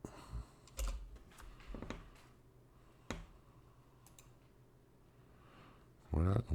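Quick bursts of clicky computer keystrokes as an address is entered into a route-planning tool, with a few separated taps and then a louder closing rattle of keys.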